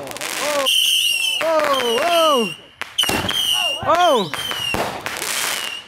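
Fireworks and firecrackers burst in a backyard display, with whistling rockets rising and sharp cracks and bangs following one after another. People whoop and react over the blasts.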